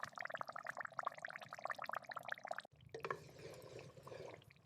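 Huitlacoche corn fungus in a pot with no added water, letting out its liquid as it hits the heat: a dense run of quick wet drips and bubbling, then a softer simmering hiss, faint and close.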